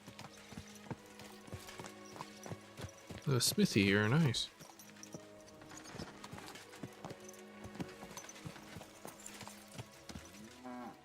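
Horse hooves clip-clop at a village smithy in the medieval game Kingdom Come: Deliverance II, a steady soft clatter under game music, with brief speech and a short loud burst partway through.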